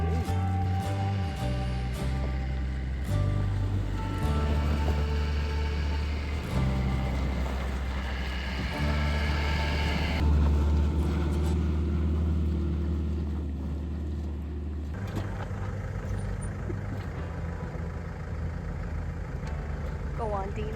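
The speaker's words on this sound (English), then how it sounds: "just let your foot off the brake and let the Land Rover do everything" A Land Rover drives slowly off-road on a deteriorating track, its engine a steady low drone throughout with the throttle easing and shifting. People talk over the vehicle noise.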